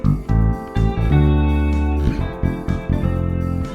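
Bass line with a simple bass drum pattern added, deep plucked notes and thumping kicks locking into a steady groove, close and loud with no talk.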